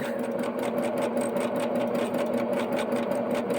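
A sewing machine runs steadily, stitching fabric for half-square triangle quilt pieces: a close, continuous motor hum with a fast, even ticking of the needle and no voices.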